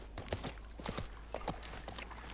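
Horse hooves clip-clopping in the video game The Last of Us Part 1, a steady walking rhythm of light hoof strikes close by over a low ambient game background.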